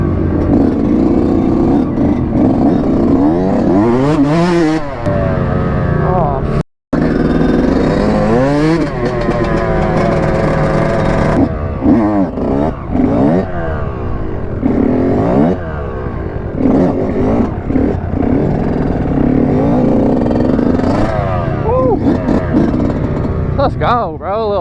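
A side-by-side off-road vehicle revs hard during a wheel stand at a muddy event lot, its engine roaring up and down in repeated loud surges with people talking over it throughout.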